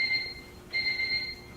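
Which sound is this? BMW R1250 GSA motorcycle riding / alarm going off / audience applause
alarm going off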